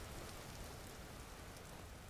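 Steady rain falls in the Vintage Story survival game, a dense, even hiss of drops on surfaces, loud and unbroken throughout with no voices.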